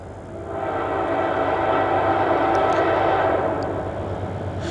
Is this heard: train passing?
yes